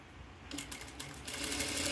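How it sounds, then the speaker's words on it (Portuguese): A sewing machine stitches down a folded bias binding along a fabric hem, starting up after a quiet moment and running in a steady, close, moderately loud burst. "Vamos passar uma costura pra prender"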